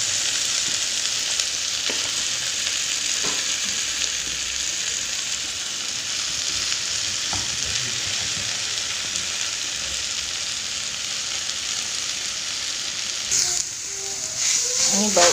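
Oncom sizzles steadily in a hot pan for a Sundanese sambal oncom leunca, a loud, continuous close frying hiss with occasional stirring scrapes and a few clinks near the end.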